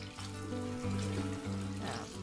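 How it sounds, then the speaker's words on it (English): Lanolin soap is lathered by hand in a basin of wash water, producing soft, continuous sloshing and swishing with low rippling swirls, close and steady, with no talking. "lathering up the soap a bit more so there's more soap in the water"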